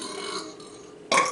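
A long, low croaking burp, then a second louder, rougher burp right after it.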